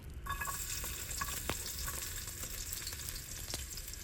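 Red snapper and garlic fry in oil with a continuous close crackling sizzle, marked by a few sharp pops and faint stirring noises.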